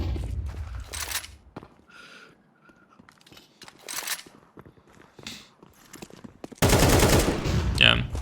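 Gunfire in a first-person shooter video game: short bursts of sharp, loud shots near the start and middle, then a sustained rapid volley at the end, with a voice talking between the bursts.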